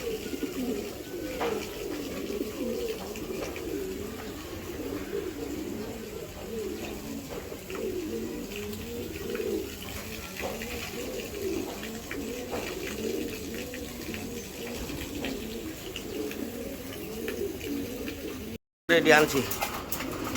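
Club-raced giribaz pigeons coo in steady low rolling calls throughout, close and fairly quiet, while someone talks intermittently and a brief dropout occurs near the end.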